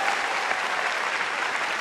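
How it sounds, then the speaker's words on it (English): Steady applause from English fans in the crowd at a women's singles badminton quarterfinal at the 2014 Commonwealth Games, a dense, even wash of clapping that holds at the same level throughout. "getting a good reception from the English fans in the crowd"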